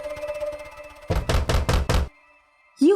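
A door locked from the outside knocked on in a domestic setting: four loud, close, hollow knocks in quick succession over soft background music, followed by a brief voice.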